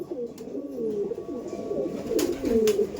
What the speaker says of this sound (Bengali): এবার তার কিছু পায়রা দেখাই যেগুলো আপনার সামনে টোটালি তুলে ধরা হবে